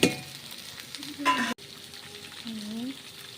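Papaya pieces hit hot oil tempered with dried chilli and five-spice, giving a soft sizzle and a burst of stirring clatter, then a quieter simmering hiss.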